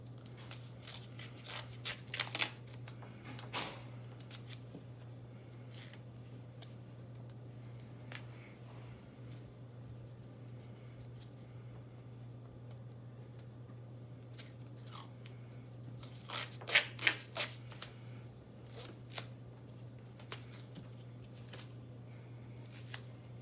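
Tape is pulled and applied to cover a leg in bursts of crackly ripping and rustling, one cluster early and another later, over a steady low electrical hum with quiet stretches between.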